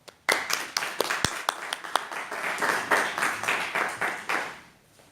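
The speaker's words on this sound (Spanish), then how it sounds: "démosle un aplauso" A small Bible study group applauds, starting with a few scattered claps that build into steady, close handclapping and then trail off at the end.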